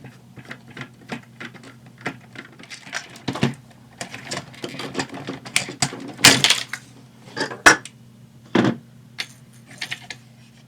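Unscrewing a TOMY Heavyweight Boxing Match toy gives a close run of small plastic and metal clicks, taps and scrapes, irregular and crisp, with quiet pauses between bursts and no talking.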